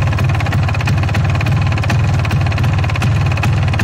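A refreshed MZ ETZ250 motorcycle engine idles steadily and close by, with a low, even throb and a fine rapid ticking carried throughout without any voices.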